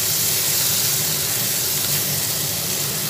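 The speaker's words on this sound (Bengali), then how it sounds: "পেঁয়াজ আর রসুন একসঙ্গে ভেজে নিচ্ছি।" Four small onions and five garlic cloves fry together in a pan, giving a steady, even sizzling hiss close by with no talk.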